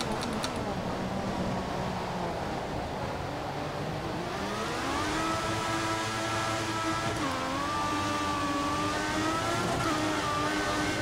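F1 2014 racing game: a Formula 1 car on the Austrian circuit accelerates hard out of a corner. Its steady engine whine climbs through rising, upshifting pitch sweeps, loud and continuous without pause, with no voices over it.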